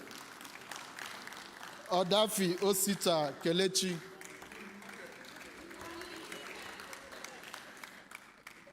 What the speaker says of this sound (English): Keep the clap going, keep the clap going.